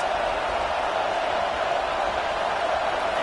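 Large football stadium crowd roars steadily to back the defense, a dense, loud wash of cheering that persists without breaks and with no distinct voice on top.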